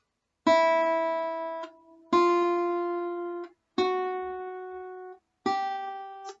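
Four separate guitar notes on the first three strings, each plucked cleanly and left to ring for over a second before stopping, alone and moderately loud.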